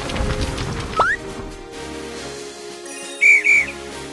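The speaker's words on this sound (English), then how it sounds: "Blow the whistle and tell us where you are." In a children's earthquake-safety game, a whistle is blown as a signal to rescuers: one brief upward whistle, then a pair of loud, shrill, short blasts near the end, with no talking over them.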